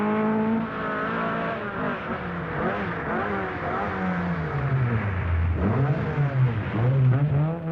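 A 1981 Vauxhall rally car engine on the RAC Rally Championship, droning loudly and steadily up close as the revs rise and fall through gear changes, dipping low before climbing again.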